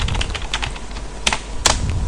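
Fingers type quickly on a computer keyboard while entering text into an Excel spreadsheet, producing a dense run of clicking keystrokes with a couple of louder taps.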